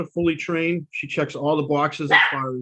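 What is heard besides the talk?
dogs barking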